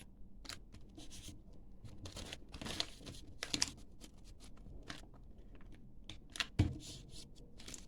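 Paper is folded by hand into a heart shape, giving soft, close crinkles and sharper creasing snaps in irregular bursts against a quiet background.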